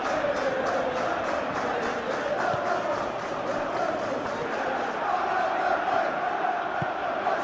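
Steady crowd roar from the stands of an eFootball 2021 match between Chelsea and Manchester City, a constant wash of cheering that holds at an even level for the whole stretch.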